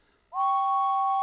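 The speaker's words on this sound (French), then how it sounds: "il se met à siffler de toutes ses forces" A cartoon steam engine named James lets out a loud, steady whistle that starts suddenly and holds a bright two-tone pitch without a break.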